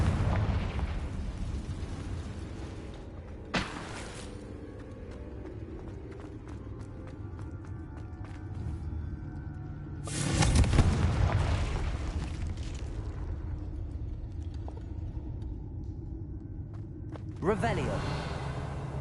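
In the video game Hogwarts Legacy, Confringo spells set off explosions: sharp booming blasts at intervals with rumbling bursts in between, and a voice calls out under the action.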